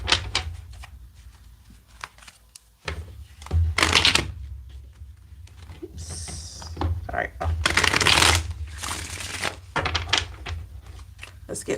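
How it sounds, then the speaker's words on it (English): Playing cards being shuffled in several brisk riffling bursts, close up, with pauses between and a person talking in the gaps. "get 3 more good shuffles here."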